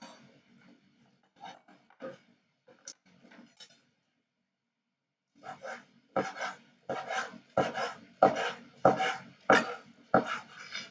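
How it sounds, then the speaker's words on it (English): Knife slicing Chinese sausage into small pieces on a board: a few soft, scattered cuts first, then after a pause a run of about eight firm, evenly spaced chops, close and fairly loud. "And the Chinese sausage, I cut it in small slice."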